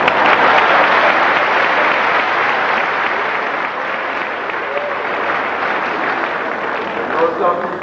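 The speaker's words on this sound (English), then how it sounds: "I think we should give a special round of applause to those responsible for the free publicity." Sustained, full-bodied audience applause at a 1983 political speech in New York City, many hands clapping steadily for several seconds, easing slightly toward the end with faint crowd voices underneath.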